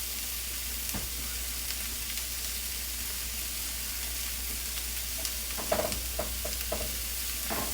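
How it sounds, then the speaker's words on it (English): Turkey burgers sear in a pan with a constant broad sizzle. A cluster of sharper pops and spatter sounds comes near the end. "So, burgers will probably have a nice sear on them by now."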